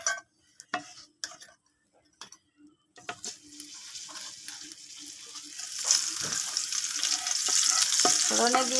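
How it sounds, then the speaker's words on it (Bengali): Dry lentils frying in hot oil in a pan: a few faint clicks and ticks at first, then a steady sizzle that builds and grows louder and denser toward the end, with no voices. "শুকনো চুলায় তেলের ভিতরে আমি একটা শুকনো ডাল ভাজি নেব।"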